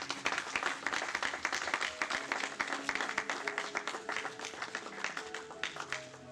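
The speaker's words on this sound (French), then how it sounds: "Maintenant, encouragez-moi en acclamant un peu" Crowd applause from a church congregation, dense rapid clapping sustained and steady throughout, moderately loud with a faint murmur of voices underneath.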